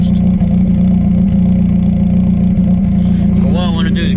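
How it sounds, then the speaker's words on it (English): A car engine ticks over at a steady idle through its exhaust, a loud continuous low rumble that runs unbroken throughout, with someone talking over it near the end. "I love the sound of this exhaust."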